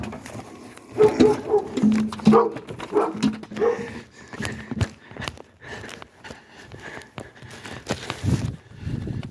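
Small yips and whimpers from a young dog amid shuffling and movement noises, fairly close, with scattered bursts over several seconds.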